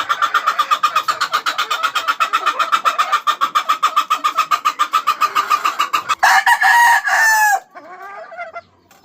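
Breeding rooster and hens, with rapid rhythmic clucking running for about six seconds, then a loud close crow cutting in and trailing off into a softer call.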